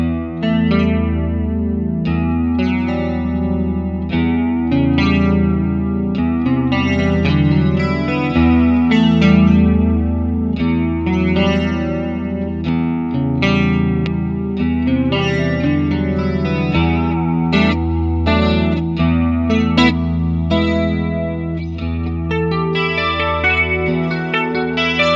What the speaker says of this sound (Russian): попробовал демо-версию УАДовского хоруса Roland Dimension D, который эмулирует железку легендарную